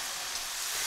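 Chips sizzle and crackle in oil in a steady, bright hiss of frying, close up and continuous for a moment.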